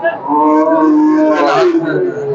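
A cow or calf at a livestock market moos loudly and very close, one long drawn-out bellow with a rising and falling pitch.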